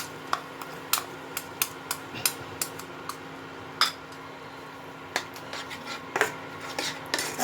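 A spoon scraping and clinking against a pan while yogurt is stirred into spices for dum aloo, irregular sharp taps spread over several seconds, close and fairly quiet.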